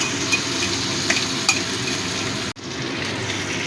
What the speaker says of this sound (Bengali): এবার এই পা হাত সব ভেজে নেব